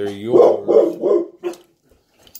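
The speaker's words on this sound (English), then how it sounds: "Damn dog's going off for some damn reason." A dog barking nearby outdoors, three or four loud barks in quick succession followed by a quieter one, then silence.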